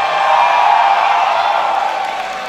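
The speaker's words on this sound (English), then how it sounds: "the crowd seems to like you" A large live audience at a StarCraft 2 esports match cheers and whoops in a loud, dense, continuous roar that fades slightly toward the end, with no clear voices standing out.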